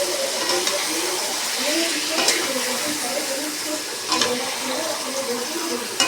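Mutton frying with browned potatoes in a pan, a steady broadband sizzle with stirring scrapes throughout and a couple of louder stirring bursts; faint background voice.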